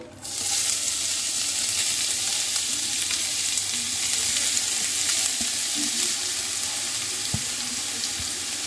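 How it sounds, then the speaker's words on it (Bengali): Grated carrots hitting hot ghee, which gives a sudden loud hiss that settles into a dense, steady frying sizzle. A few faint clicks of a spoon sound against the pan, and no one speaks. "এবার গ্রেট করে রাখা গাজরগুলো আমি এই ঘিয়ের মধ্যে দিয়ে দেব।"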